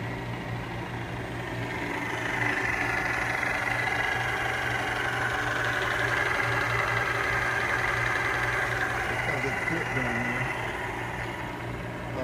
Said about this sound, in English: I'm gonna throttle it up with both motors spinning the, it quickly gets up to about 1600 RPM.